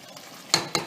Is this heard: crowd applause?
no